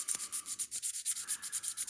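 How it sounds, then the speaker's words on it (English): Rhythmic scratchy rubbing of 180-grit sandpaper on a plastic model car body, quick repeated strokes, close up with no talking. "I'm going to start sanding all of this off"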